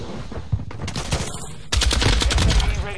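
A Lachmann 762 rifle fires in Modern Warfare 2 with rapid bursts of loud, close automatic shots. The fire grows into a dense, sustained volley in the second half, and a voice talks over it.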